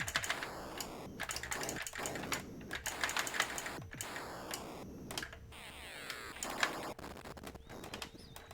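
Keys clatter on a Tandy Colour Computer keyboard during a game, in quick irregular bursts of clicks, close and fairly loud, with beeping and whooshing game sounds mixed underneath.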